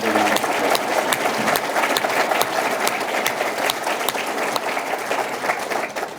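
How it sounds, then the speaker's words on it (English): Audience applause fills a ticket office dedication ceremony, a dense, steady wash of clapping held at an even level throughout, with a few sharper individual claps standing out near the front. "Let's give them another round of applause."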